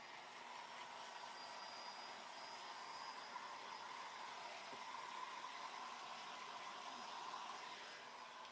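A hair dryer blows on a painted craft piece, producing a steady, faint, unbroken whooshing hum of airflow that holds even from start to finish, with no voices.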